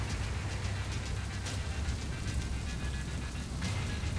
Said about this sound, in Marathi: मुंबईत यंदा पहिल्यांदाच हलक्या स्वरूपाचा पाऊस झालाय